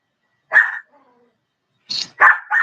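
A Chihuahua barks in short, sharp yaps, one near bark followed after a pause by a quick cluster of two or three more, with no talk over them.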